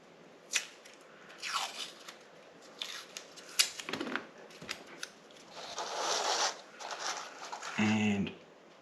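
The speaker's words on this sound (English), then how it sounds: "I'm going to get a little bit of masking tape." Masking tape is pulled and torn from the roll while masking off a Wista 45N camera's new bellows, giving several close, rasping rips and crackles separated by short gaps, with a brief voice near the end.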